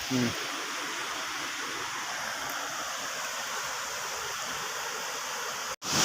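Muddy floodwater surges down a swollen stream and leaps into a river near a bridge, a steady, broad roaring rush that fills the scene continuously, heard from close by.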